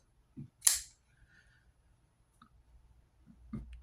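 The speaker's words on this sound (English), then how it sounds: "It's got a finger flipper. It's got a thumb studs. It's got a nice action, snappy action." A budget pocket knife with a finger flipper and thumb studs is flipped open with snappy action, giving one crisp, sharp snap near the start, then a few faint clicks and handling rustles nearby.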